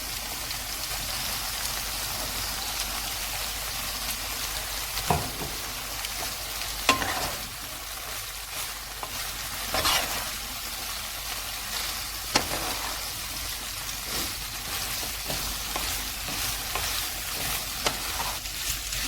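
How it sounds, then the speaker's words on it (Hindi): Spaghetti being stir-fried with rice in a pan, a continuous crackling sizzle with periodic scraping stirs and occasional sharper utensil knocks throughout. "अब इसमें हम स्पैगेटी मिक्स कर लेते हैं।"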